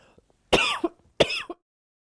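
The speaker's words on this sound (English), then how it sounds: "Excuse me, I'm going to cough." Two separate coughs, close and clear, about half a second apart against a quiet room during a sewing and quilting fabric show.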